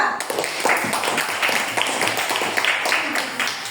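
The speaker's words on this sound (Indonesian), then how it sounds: "tepuk tangan untuk kelompok 2" A classroom audience claps for a presenting student group, a short burst of mixed clapping blended with voices talking through it.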